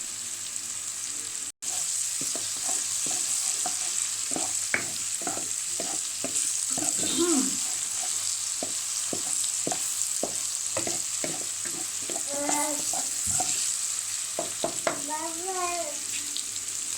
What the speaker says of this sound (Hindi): तो ये तकरीबन फ्राई हो चुके हैं।